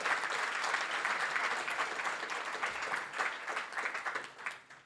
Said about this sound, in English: give a huge round of applause to these students who got the scholarships today